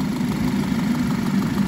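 An engine running steadily at idle with low vibration, holding constant throughout without pauses, nearby and fairly loud with no voices.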